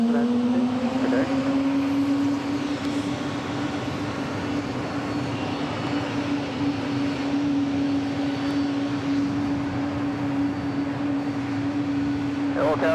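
Departing from JFK, a Korean Air heavy jet gives a steady engine rumble with a droning low tonal whine running throughout, moderately loud and continuous, with faint voices occasionally present.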